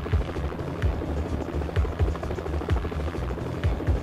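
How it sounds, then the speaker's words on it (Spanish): Helicopter rotor in the PS1 video game Jackie Chan Stuntmaster, a steady loud low chopping throb with repeated rhythmic beats running throughout, alongside game noise. "Y ese helicóptero que explota ahorita."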